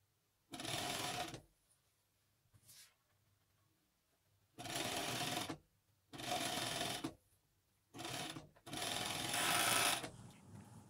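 Coverstitch sewing machine running a seam on a DIY customised hoodie, stitching in several short rapid bursts separated by near-silent pauses, up close and fairly quiet.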